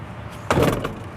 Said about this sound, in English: you're just gonna grab this bar right here, and that's gonna release the mechanism and open this door for you guys.